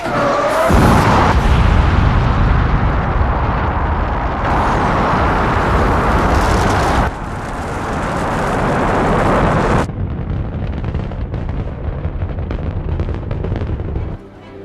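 Apollo rocket engines igniting at launch, a loud sustained roaring blast of broadband noise that builds at the start and rumbles on continuously for the whole stretch, with no voices.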